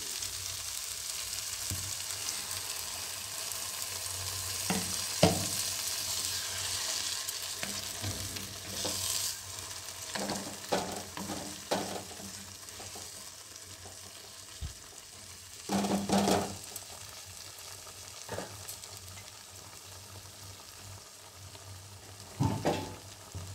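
Water used to rinse spices is poured into a pan of frying masala for Jammu-style rajma, setting off a steady loud sizzle with repeated scraping stirs of a spoon against the pan.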